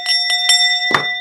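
A small bell rings with a bright sustained tone, struck about four times in quick succession, close and loud with no talking.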